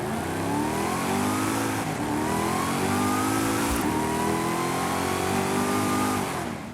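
Deberti Design Ford Mustang GT with a 5-litre engine, 1500 HP custom build in Forza Horizon 5, revving hard in repeated loud rising sweeps that climb and drop several times, continuous and close with no talk.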